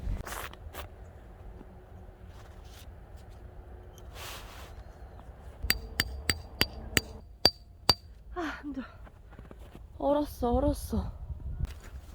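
Tarp pegs driven into frozen ground at a winter campsite in sub-zero cold, a quick series of sharp metallic hammer strikes close by, followed by rustling and handling noises, with a voice speaking in the background.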